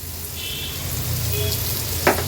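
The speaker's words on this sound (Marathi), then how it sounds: "आता ही मध्ये टाकलेली कारली सुरुवातीला आपण थोडी परतून घेणार आहोत" Bitter gourd slices frying in oil in a pan, a steady close sizzle and crackle with a brief stirring scrape toward the end.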